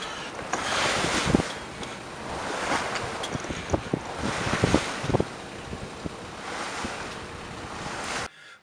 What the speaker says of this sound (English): A good following breeze